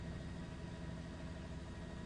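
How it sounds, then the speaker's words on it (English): A low, steady engine rumble drones continuously, faint and unchanging, like motorcycles and dirt bikes idling at a distance at DMX's funeral procession. "you can see some of the motorcycles there celebrating. More like a dirt bike there."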